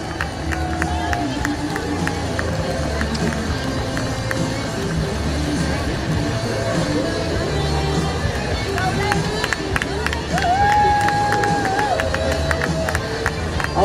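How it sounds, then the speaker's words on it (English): Crowd cheering and clapping for 5K runners and walkers passing through along a downtown parade route, a steady roar of voices and applause with occasional whistles and a bright sustained cheer near the end, with chatter in the mix. "Let's cheer on the rest of our 5K runners and walkers"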